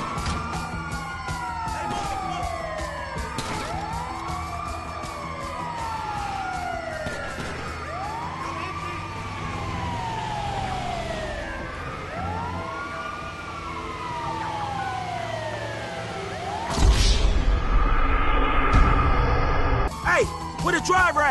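An ambulance siren in Grand Theft Auto V wails in repeated rising-and-falling sweeps, loud and close, with in-game engine and traffic noise beneath and a louder burst of crashing noise near the end.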